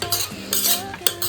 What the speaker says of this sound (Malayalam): ഒരിത്തിരി സമയം ഒന്ന് റൈസ് നമുക്കൊന്ന് ഫ്രൈ ചെയ്ത് കൊടുക്കാം